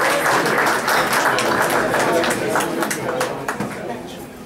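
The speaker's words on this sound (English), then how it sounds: "a big round of applause for the ladies" Sustained audience applause for the women on International Women's Day, a dense wash of many hands clapping with crowd murmur, steady and loud before tapering slightly near the end.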